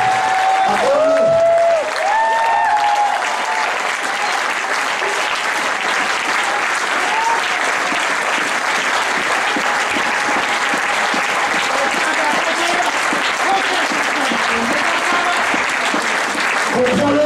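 Church congregation applauding and acclaiming the Lord together, steady dense clapping with voices mixed in throughout, loud and sustained.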